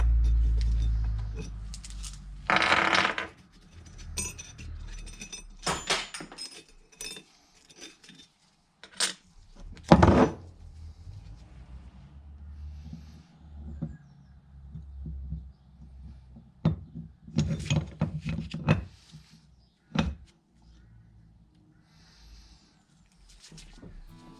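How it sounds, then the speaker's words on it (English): Metal tools and bolts clink and scrape while bolts are removed from a Classic Mini differential crown wheel, with scattered sharp metallic taps and rattles in a quiet workshop, close by and intermittent. "I'm going to take these bolts out because we can change the bolts."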